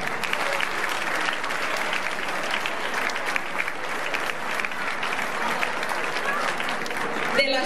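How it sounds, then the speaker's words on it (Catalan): Audience applause at a fashion show during an olive oil and asparagus fair in Godall, a dense, steady wash of clapping from a crowd that continues for several seconds at a moderate distance. "Aplaudiment, per favor."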